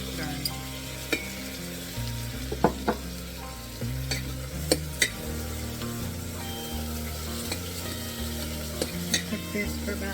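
Minced garlic frying in a pan with softened onions and carrots for rice pilaf, a steady sizzle under repeated sharp clinks and scrapes of a utensil stirring against the pan.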